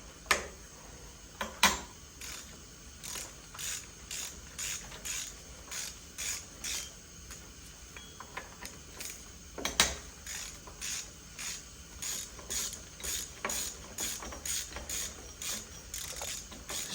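A ratchet wrench clicks in quick repeated bursts as the power steering pump is removed from a Honda K20 Type R engine on a stand, with close, fairly faint rhythmic ticking and a few sharper knocks, and no voices.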